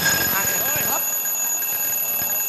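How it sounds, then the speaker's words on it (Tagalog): An alarm clock rings loudly and steadily with a high, sustained electronic tone, while a voice talks over the first second. "Palakas yung alarm ko."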